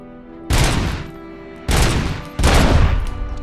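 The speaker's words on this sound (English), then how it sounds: "How come it's burst fire now?" Three loud bursts of gunfire from a weapon in the video game RoboCop: Rogue City, each a dense, booming volley lasting about a second, separated by short pauses, with no talk over them.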